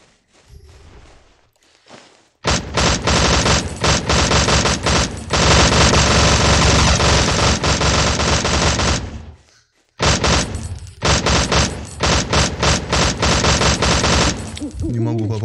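Machine gun fire in the survival video game Last Day Rules Survival, long loud sustained bursts of rapid shots close up, broken by a brief pause before another heavy burst, with faint voice underneath.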